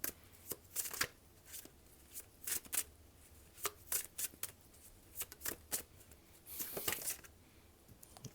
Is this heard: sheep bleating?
no